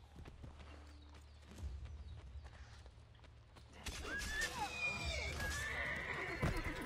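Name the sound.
horse neighing and hooves in Assassin's Creed Brotherhood video game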